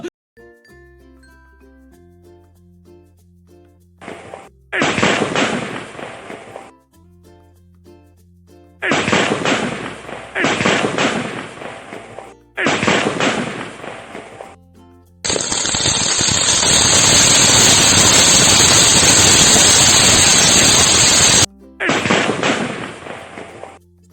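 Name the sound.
firecrackers bursting at Diwali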